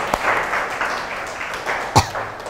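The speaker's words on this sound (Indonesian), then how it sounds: "Tepuk tangan untuk kita semua." A school class applauding in a lesson, a short, loose patter of clapping from a group of students, fairly soft with a couple of sharper claps standing out.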